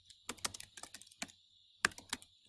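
Fingers type on a computer keyboard, short bursts of soft, close key clicks in an irregular rhythm with brief pauses, quiet against a faint background hum.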